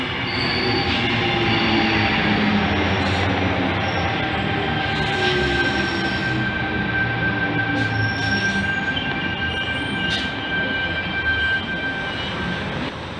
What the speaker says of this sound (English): T40 and its friend is now departing platform number 1, Bondi Junction service.